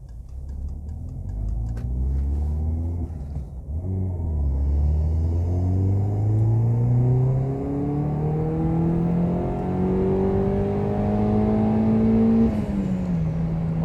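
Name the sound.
Peugeot 207 GTI engine accelerating to the red line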